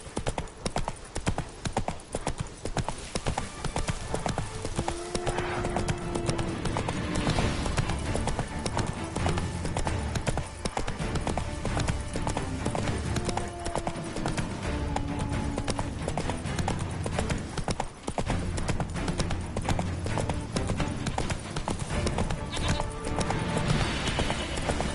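Roach, Geralt's horse in The Witcher 3, gallops with steady loud clip-clop hoofbeats and an occasional whinny under continuous game music and ambience.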